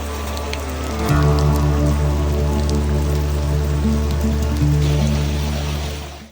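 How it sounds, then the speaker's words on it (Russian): Steady heavy downpour pattering and drumming on a roof, close and continuous with dense dripping, rising in intensity after the first second and holding without any voices. "Хоть сейчас ливень."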